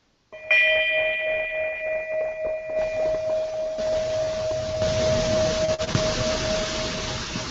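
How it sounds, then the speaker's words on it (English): A bell is struck once and rings with a clear, sustained tone that fades slowly. A broad hiss builds under the ring as it goes on. "here's one of the other bells."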